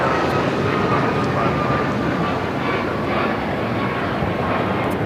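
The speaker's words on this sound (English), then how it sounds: "This is United Airlines Flight 1400 taking off to Chicago on the MAX 9." United Airlines Boeing 737 MAX 9 taking off at LAX, a steady, loud broadband jet roar with a faint whine, continuous throughout, with air traffic radio chatter in the background.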